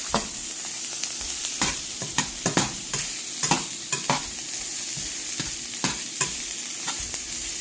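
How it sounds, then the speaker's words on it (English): Onion and andouille sausage fry in a hot pan, a steady close sizzle broken by frequent sharp clicks and scrapes of stirring, with no talking. "it's cooking all in those juices from the sausage"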